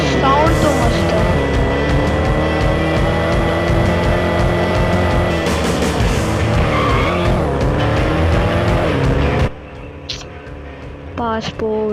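In the Extreme Car Driving mobile game, a fast car's engine roars loudly and continuously with screeching tire skids, then cuts off abruptly, leaving quieter game sounds; someone talks over it.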